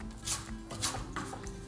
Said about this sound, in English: I'll stir up the granola, stir in all the cherries,